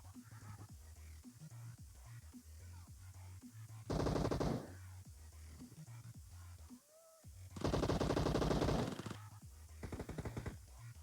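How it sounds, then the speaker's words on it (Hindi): Automatic gunfire in a shooting video game comes in two loud, dense bursts, one brief and one longer, over a busy layer of quieter game sounds. "अब यार ये बंदा कहाँ से फायर कर रहा था"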